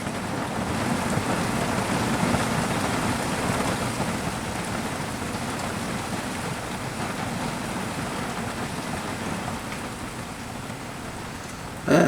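Steady rain falls continuously, a dense, even patter on surfaces with a low rumble underneath, fairly close and unbroken throughout.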